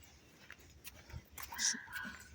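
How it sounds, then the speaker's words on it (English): A dog on a New York City street gives a few short, high, squeaky barks and yips, faint and somewhat distant against low background noise. "Dog is barking, has a very loud bark, very squeaky bark, very squeaky, but still barking."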